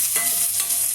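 Thinly sliced onion sautéing in a hot pan as the base for an eggplant and tomato curry gives a steady, close sizzle with a soft hiss throughout a brief moment, and nobody talks.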